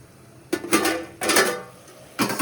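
A metal lid comes off a pot of cooking chicken with loud clattering and scraping, a few sharp bursts close by, no voices.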